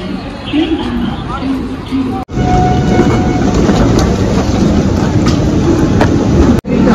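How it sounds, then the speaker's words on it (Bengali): A train rolls into crowded New Delhi station with a loud, continuous rumble and rattling, with people talking over the noise and a couple of sharp clunks. "আমরাও ঢুকছি, ট্রেনও ঢুকছে।"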